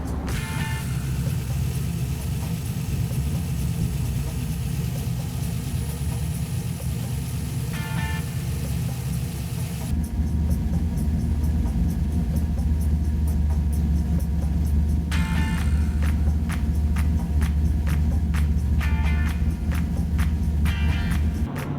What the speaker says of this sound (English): So now I got our idle right, our air field pretty close.